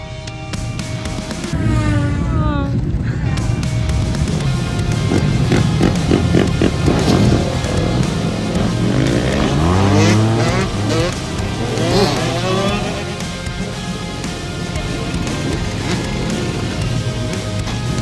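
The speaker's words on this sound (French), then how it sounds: "et on attend pour voir le drift en fait, tout simplement." At a drift event, a car engine revs up and down in rising and falling sweeps, loud and close, with hissing tire noise and people talking over it.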